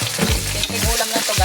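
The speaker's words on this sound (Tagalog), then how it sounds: "Gisahin muna natin ang ating giniling." Ground pork sizzles loudly as it sautés in a pan, steady frying hiss with stirring scrapes and clatter close by, no talk over it.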